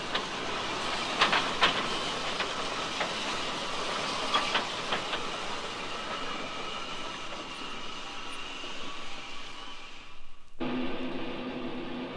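A Festiniog model railway train runs along the tracks and draws into Minforth station, a steady metallic rolling hiss with clicking wheel-on-rail accents and faint squeals, then the motion cuts off abruptly and a low hum remains.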